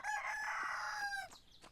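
A rooster in the Everdream Valley farming video game crows once, a single drawn-out cock-a-doodle-doo about a second long, ending in a few soft clucks, quiet and alone.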